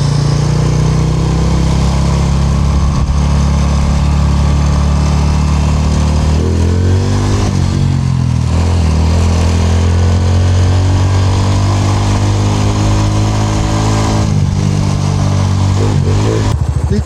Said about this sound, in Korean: 혼다 슈퍼 커브 타고 있습니다.